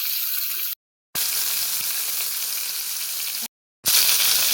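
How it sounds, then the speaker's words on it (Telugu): Onions fry in a pan with tomato, tamarind and green chilies for nalleru pachadi, a close, steady sizzling hiss broken by two short silent cuts. "దీంట్లోనే ఉల్లిపాయలు కూడా వేసి వేయించుకోవాలి."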